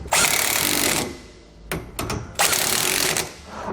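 A power tool with a socket runs down serrated bolts on a Dexter heavy-duty single-axle trailer suspension, loud close whirring-hammering bursts, a long one, two short blips, then another long run, no talk.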